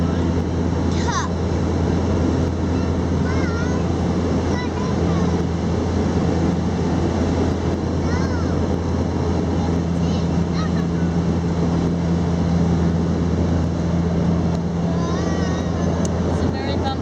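Steady, loud drone of a small plane's cabin during a bumpy flight over the far north near Tuktoyaktuk, a constant engine and propeller hum filling the whole stretch while voices speak faintly underneath.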